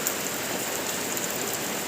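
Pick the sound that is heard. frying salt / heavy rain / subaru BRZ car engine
heavy rain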